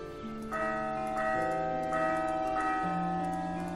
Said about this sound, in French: Cette cloche fait un bruit bizarre.